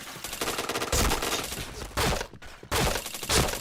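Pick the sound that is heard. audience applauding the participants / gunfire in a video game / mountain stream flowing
gunfire in a video game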